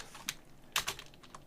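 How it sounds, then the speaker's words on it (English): Keys clicked on a computer keyboard in a few short, separated bursts of taps, fairly quiet and close, with no talking. "I'll type it in."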